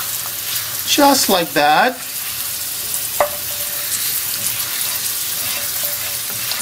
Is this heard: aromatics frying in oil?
yes